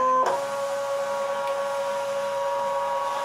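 A Brother ScanNCut cutting machine runs a scan, giving a steady mechanical hum with a sustained tonal whine after a brief start-up click, close and continuous with no talk.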